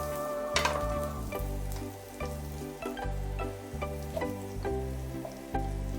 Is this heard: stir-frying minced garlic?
yes